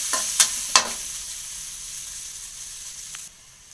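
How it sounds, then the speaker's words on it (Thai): Shallots frying in hot oil in a pan for Thai fried noodles, a steady close sizzle with a few sharp stirring scrapes at the start, no talking. "ใส่น้ำมัน ก็เจียวหอมให้เหลืองนะ"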